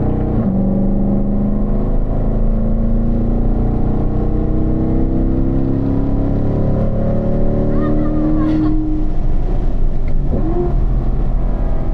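A car on a racetrack accelerates out of a corner as the driver picks up the throttle, its engine note rising steadily and loud, with a coaching voice speaking over it.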